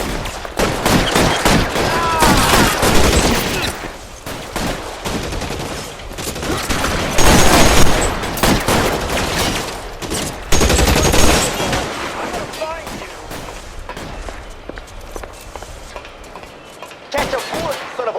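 A heavy exchange of gunfire rages in L.A. Noire, with repeated bursts and volleys of shots over eighteen seconds, loud and close, and a few voices shouting beneath the shooting.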